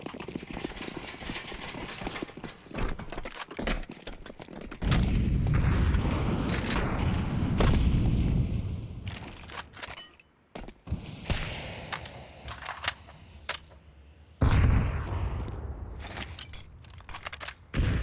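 Grenade explosions on the Nuke map in a Counter-Strike ESEA match: two heavy booming blasts amid a busy clatter of gunfire, footsteps and game mechanisms, with quieter stretches in between.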